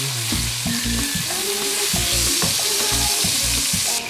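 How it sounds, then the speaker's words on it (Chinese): Halved cherry tomatoes stir-fried in hot olive oil in a flat frying pan: a steady close sizzle with repeated scraping and tossing strokes of a utensil against the pan, no talk. "那个油热了之后我们就加一些1/2的小番茄，把这样先翻炒"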